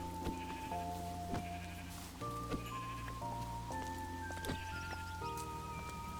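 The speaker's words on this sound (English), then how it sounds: "We found some sheep." Several sheep in Minecraft bleat in overlapping, wavering calls, one after another, with a steady pattering background like rain and wind in the mountains.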